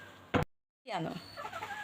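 A hen gives a short burst of clucks, then after a brief silence a voice starts talking nearby.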